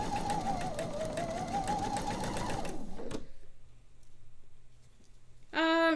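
Sewing machine stitching quilt pieces with a quarter-inch seam, a steady close whirring run for about three seconds that then stops, leaving near silence before a brief sharp sound at the end.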